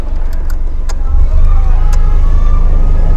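A Suzuki Mehran car's engine hums and vibrates with a loud, steady low drone from inside the cabin, swelling slightly midway, while someone speaks over it.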